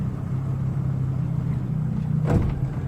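A high thrust outboard motor on an 18 foot Jetcraft boat idling nearby, a steady low rumble that rises briefly toward the end.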